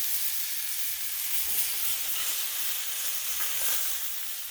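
Chicken halves sizzle on a Blackstone griddle under a dome lid, a steady, close, dense crackling hiss that carries on without pause and without any voices.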